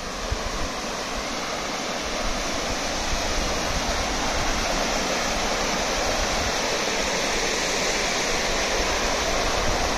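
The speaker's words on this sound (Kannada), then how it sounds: "ನೋಡಿ, ಇದು ಸಣ್ಣ ಜಲಪಾತ." Water from the small Baba Falls at Kumbwade, Maharashtra pours in a steady, unbroken rushing roar, close and even throughout with no other sounds.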